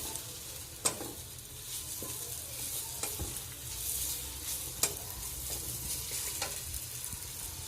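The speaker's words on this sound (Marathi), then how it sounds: "शेंगदाण्याचं कूट प्रत्येक भाजीला लागतंच तर हे चांगलं असं तेलामध्ये परतून घ्यायचं आहे आपल्याला" Peanut powder is stirred and sautéed in oil in a pan for a ridge gourd sabji, giving a soft, even sizzle. Scattered utensil scrapes and taps sound over the top, close and alone with no talk.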